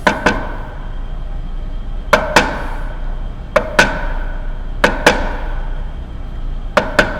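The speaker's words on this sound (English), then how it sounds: "So just repeat that process, tap, tap, tap it." A chisel is tapped with a mallet to cut a hinge mortise in a wooden jewelry box. The blows come close and sharp, mostly in pairs of quick knocks, with short pauses between the groups.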